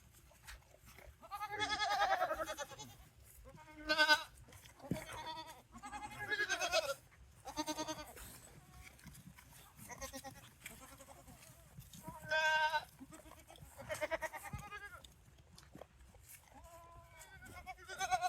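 Goats on a small farm bleating repeatedly, several loud, wavering calls overlapping in irregular bursts, fairly close, with brief quiet gaps between them.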